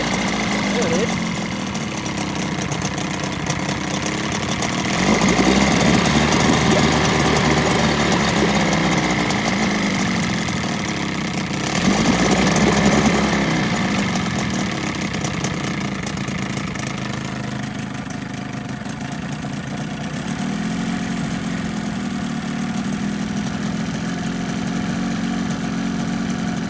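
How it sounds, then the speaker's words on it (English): A 1980 Evinrude 15 outboard motor idles on a cold day with a steady, slightly uneven mid-pitched putter that swells louder twice before settling back. "Not the happiest with how it idles. I think it could be smoother."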